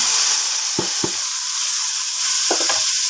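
Winged beans (sigarilyas) dropped into a pan of sizzling onion and garlic for adobong sigarilyas, a steady close sizzle broken by a few sharp stirring clatters.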